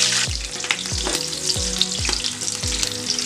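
Cloves, bay leaves and slit green chillies fry in hot oil for a country chicken dum biryani, with a loud, close sizzle and bursts of popping and a series of regular metallic scrapes from stirring, with no talking.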